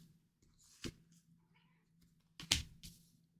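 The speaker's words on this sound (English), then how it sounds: "Don't scream meow at me." A cat meows indoors, a few short separate calls with quiet gaps between them, close to the listener with no talk over it.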